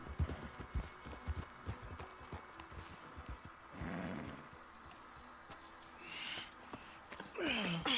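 Horses clip-clop at a steady pace in the Western game Red Dead Redemption 2, their hooves a fairly quiet patter that is joined by rustling and other game sounds later on.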